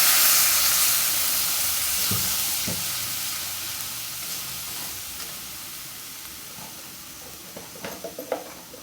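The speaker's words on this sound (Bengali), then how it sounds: "একটুখানি জিরা বাটা, সামান্য পরিমাণ জল দিচ্ছি।" Cumin paste, ginger paste and a splash of water sizzling in a hot pan while cooking a Bengali potato curry, a steady bright frying hiss that slowly fades, with a few stirring clinks near the end.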